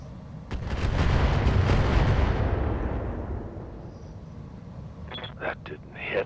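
Mech weapons firing in the RogueTech battle game: a broad, booming burst of artillery-like fire swells and slowly decays, followed by a few sharper pops near the end.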